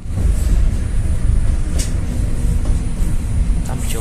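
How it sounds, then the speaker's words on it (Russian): A Vitebsk tram rolls along with a steady low rumble and continuous track noise, heard from inside, loud and unbroken throughout. "А вот трамвай витебский."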